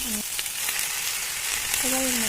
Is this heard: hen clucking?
no